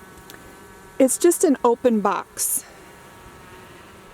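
Gentle honey bees hum around an open hive box, a faint, steady buzz running beneath a close voice speaking.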